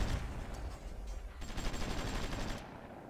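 Gunfire from units in the strategy game Supreme Ruler Ultimate during a battle for Minsk, a steady dense crackle of shots and bursts filling the whole stretch at moderate level, alone without talk.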